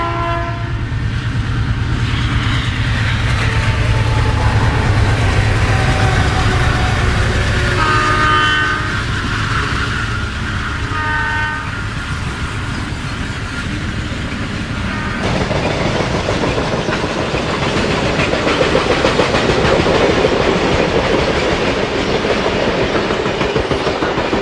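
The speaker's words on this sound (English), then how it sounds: "A BN eastbound unit coal train now graces the bridge scene." A BN eastbound unit coal train rolls across a bridge with a loud, continuous rumble and clatter of wagons, its horn sounding in sustained blasts early on before the steady grinding roll carries on alone.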